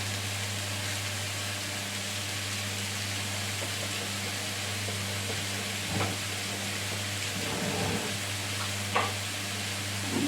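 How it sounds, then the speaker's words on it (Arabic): Eggplant and onion frying in a pan with thyme and chicken spices, giving a steady, close sizzle with a low hum underneath, while a spoon stirs and scrapes through the mixture in a few short strokes near the end. "نضيف معلقة صغيرة، ونقلب بقى الخليط الجميل ده"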